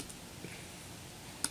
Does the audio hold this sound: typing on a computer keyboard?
yes